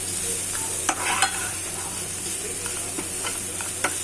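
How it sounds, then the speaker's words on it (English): Onions caramelizing in oil in a pan, a soft continuous sizzle and hiss with occasional light stirring clicks, fairly quiet and close, with no talking. "We want to caramelize the onion so that they have a very nice flavor."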